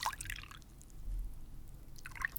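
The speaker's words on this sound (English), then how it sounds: "Gotta get some of those nice tea splashing sounds." Tea poured into small teacups in a traditional Chinese tea ceremony, a soft, close trickle with faint splashes and drips, quiet and intimate.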